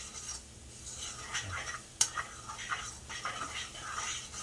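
A utensil stirs curry paste with chicken in a pan over low heat, making soft, continuous scraping and rasping strokes close by, with one sharp clink midway and light sizzling underneath.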